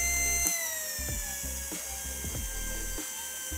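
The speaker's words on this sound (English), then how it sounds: "our motor speed is slow because this motor is run on variable power supply" A 12V DC air cooler motor runs slowly on a variable power supply, giving a close, steady whir with a faint high whine and a series of irregular ratcheting clicks, with no voices.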